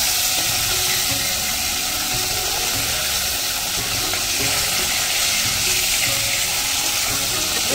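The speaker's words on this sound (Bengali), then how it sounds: "মাছটা ভালো করে ফিরিয়ে দেবো, মাছগুলোকে আমি ভালো করে উল্টে নেব।" Tilapia pieces frying in oil in a pan and being turned over, a steady, continuous sizzle with faint scraping of the spatula underneath.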